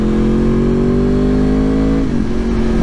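Yamaha R1 RN22 sport motorcycle engine revs steadily, a loud close droning note rising slowly then dropping sharply near the end.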